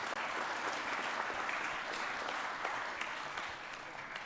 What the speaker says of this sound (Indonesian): Nah, ini boleh tepuk tangan dong.